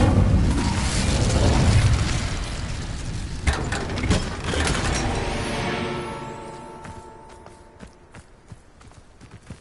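Incendio fire spell cast in the Hogwarts Legacy video game: a loud whooshing, roaring burst with crackling pops, followed by a decaying rumble and scattered game effects as the blast fades.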